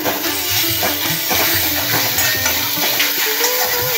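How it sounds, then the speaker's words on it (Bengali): Turmeric, salt and mixed dal spices sautéing in a pan over a medium flame, giving a steady close sizzle with soft stirring scrapes throughout. "তারপরে মিডিয়াম ফ্লেমে রেখে কষিয়ে নিয়ে"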